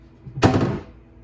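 A newly built and installed wooden cabinet door, with no rubber stoppers fitted, shuts with one sharp, close thunk that decays quickly.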